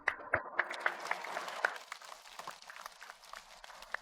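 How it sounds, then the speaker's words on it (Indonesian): Clapping from a studio audience of women welcoming a religious teacher onto a talk show, sharp scattered claps at first that thin into softer, lighter applause. "ibu-ibu kita berikan tepuk tangan untuk Ustadz Danu."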